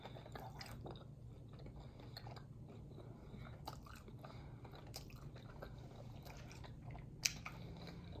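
Crab and New York strip steak are chewed up close at a mukbang meal, with quiet, wet biting, squishing and crunching sounds over a soft background hum.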